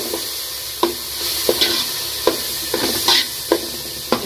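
Ginger sautéing in a pan, with a loud, bright, steady sizzle broken by sharp, regular spatula strokes against the pan about every second, heard up close with no talking.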